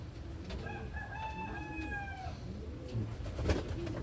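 Pigeons calling nearby, with a few drawn-out tonal calls over a low, busy background of fowl-like noise and a soft flutter near the end.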